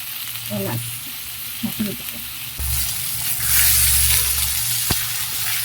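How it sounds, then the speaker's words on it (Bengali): Spices frying with onion paste, garlic paste, cinnamon and bay leaf for chicken roast, a close hiss that swells into loud sizzling partway through, with faint scraping of stirring and a brief knock. "পেঁয়াজের সাথে মশলাটা একটু ভেজে নিব একটু কষিয়ে নেব"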